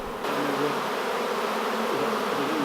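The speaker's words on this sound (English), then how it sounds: "The bees are wandering into the box, which is covered over to make it dark" Honey bees swarm around a covered hive box, making a loud, dense continuous buzz up close that starts abruptly and holds steady throughout.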